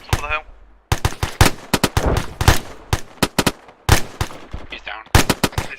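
Rapid, sharp bursts of automatic gunfire from the combat game Arma 3 during an infantry firefight, with loud, closely spaced cracks coming in clustered volleys and brief pauses between them.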